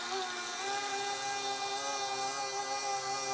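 A brushed RC motor runs in water at half throttle, making a steady high-pitched whine with a constant pitch that stays loud and close for the whole stretch.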